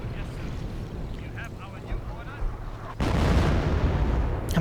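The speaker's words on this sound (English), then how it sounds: "I'm trying to take out the Pack 38 with this artillery." Artillery fire in the World War II strategy game Company of Heroes, a dull booming barrage that swells into a louder sustained roar halfway through, with a voice talking over it.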